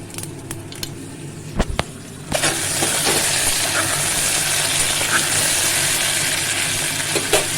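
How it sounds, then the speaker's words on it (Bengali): Whole cumin seeds and dried chillies drop into hot oil after a few light clinks, then a loud, steady sizzle bursts up close and keeps frying evenly to the end. "তেল গরম হয়ে গেছে গোটা জিরে শুকনো লঙ্কা তেলে দেব"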